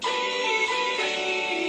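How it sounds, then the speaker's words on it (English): A short stretch of music with the bass cut away, leaving a thin, tinny, band-limited sound like audio heard through a telephone. "Like it's coming through a phone."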